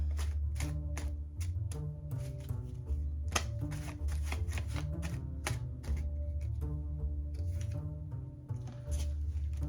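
A deck of tarot cards is slid back together and shuffled, with quick riffling and tapping bursts running under steady background music.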